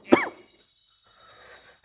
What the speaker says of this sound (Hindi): थोड़ी खांसी याद आ रही है